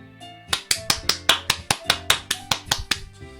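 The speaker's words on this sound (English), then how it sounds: "I'm the first to start applauding." One character in Doki Doki Literature Club claps alone, about a dozen crisp, evenly spaced claps over soft, steady game music.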